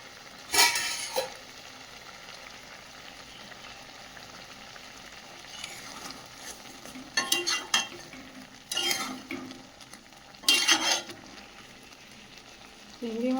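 A metal lid lifts off a pot of simmering prawn curry with green chillies, making several short, sharp clanks and scrapes at close range between quiet stretches of faint bubbling.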